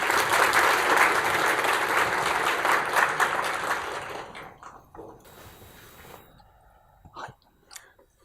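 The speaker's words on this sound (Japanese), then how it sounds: "拍手でお迎えください" An audience at a talk applauds steadily for several seconds, the clapping dense and loud at first, then thinning out and fading to a few scattered claps.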